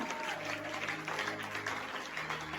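A church congregation at a Sunday service claps steadily, a faint, continuous patter of applause heard from a distance with a low hum running beneath it.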